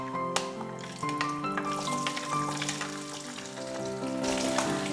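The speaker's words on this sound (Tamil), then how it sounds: "சாம்பார் வெங்காயத்தை ஆட் பண்ணும்போதே" Peeled sambar onions (small shallots) frying in a pan of oil with cumin and pepper for a manathakkali keerai dish, a steady close sizzle with brief stirring sounds and no talking.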